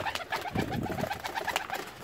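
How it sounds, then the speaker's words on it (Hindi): Young Pakistani high flyer pigeons coo softly and repeatedly at close range, a steady murmuring of overlapping calls with no talking. "7-8 बेबी पिजन्स हैं जो कि अभी मैक्रो से निकाले हैं।"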